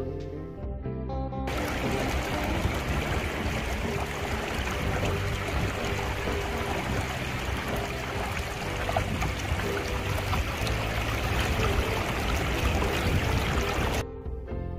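A freshwater river stream, Sungai Leubang Hulu on Simeulue, flows clear with a steady, dense rush of water that holds evenly for most of the stretch, then fades near the end.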